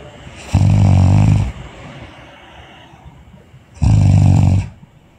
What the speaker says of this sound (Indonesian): Orang ngorok.